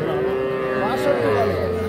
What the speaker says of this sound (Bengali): দুটোই কিন্তু শাহিওয়াল ষাঁড় বাছুর